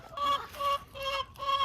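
Backyard chickens clucking inside a coop, a run of repeated close, moderately loud clucks and calls in short bursts.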